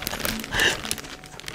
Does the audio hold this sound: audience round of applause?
no